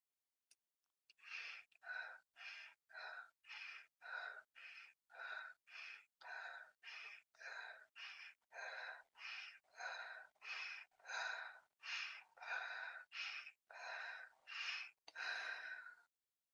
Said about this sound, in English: Now let's do the short breath.